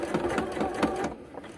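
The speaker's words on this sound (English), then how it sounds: "I'm just going to take a couple of stitches forwards, and then I'm going to go back a couple of stitches" A sewing machine stitches a few stitches forward and then back, a quick close mechanical chatter with a steady rhythmic pulse, heard alone.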